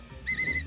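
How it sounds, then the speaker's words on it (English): Link's whistle from the video game The Legend of Zelda: Breath of the Wild, a single short, clear wavering tone rising over quiet game ambience and fading within well under a second. "he will hear my whistle"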